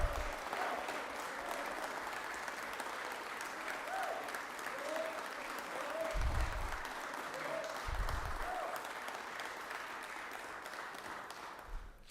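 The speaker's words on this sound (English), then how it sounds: "I appreciate the round of applause for all state workers" Sustained applause in a Georgia legislative chamber, a broad steady patter of many hands lasting the whole stretch, with faint voices and a few low thumps beneath it.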